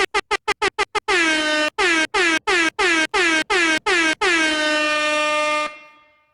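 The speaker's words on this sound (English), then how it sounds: "Air horns." An air horn sound effect blasts loud and close, first a quick burst of short stabs, then a run of longer repeated honks, ending in one sustained blare that fades out.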